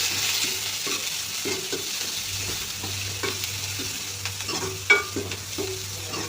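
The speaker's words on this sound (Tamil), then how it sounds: "வெங்காயம், பச்சை மிளகாய், கருவேப்பிலை எல்லாத்தையும் போட்டு நல்லா தாளிக்கிறோம்" Steady close sizzling of onions, green chilies and curry leaves frying in hot oil, with occasional stirring scrapes and light clinks, no voices.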